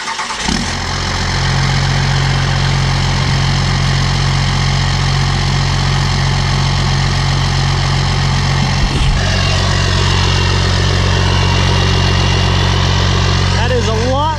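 Cummins 12-valve diesel in a red truck with a new mini smoke stack, cranking over and settling into a loud, steady, rumbling idle close by, with a brief stumble partway before carrying on evenly.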